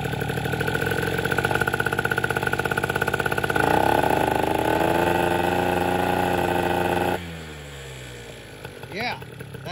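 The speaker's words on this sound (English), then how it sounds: "definitely reaches a higher RPM now just revving out on the throttle" A Vento Triton R4 motorcycle with a freshly tuned carburetor, held at a loud idle and then revved hard on the throttle. The engine climbs and holds at a higher pitch before dropping back to a lower rumble.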